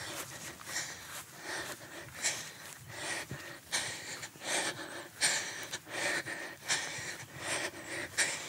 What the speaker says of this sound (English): I'm breathing hard, going up a very steep hill